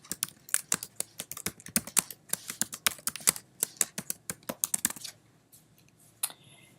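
Rapid typing on a computer keyboard: dense, uneven keystrokes clatter up close for about five seconds, then thin out to a few stray taps.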